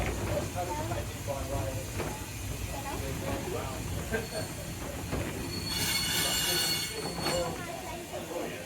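A heritage train pulls into Foxfield railway station, its wheels squealing and grinding on the rails with a bursts of hissing steam, loud and close, while voices murmur in the background.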